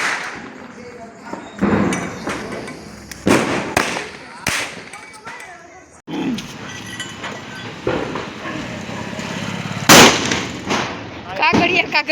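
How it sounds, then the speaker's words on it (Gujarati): Diwali firecrackers such as bidi bombs and lavingiya burst in a series of sharp, irregular bangs, some near and loud, others distant, over a background of crackling and occasional voices. "બીડી બોમ્બ ને લવિંગિયા ને એવું બધું।"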